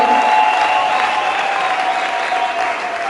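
A church congregation at Cite de Refuge in Rwanda applauds in a sustained, even wash of clapping that holds steady throughout.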